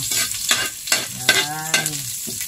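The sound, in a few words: ginger frying and being stirred in a pan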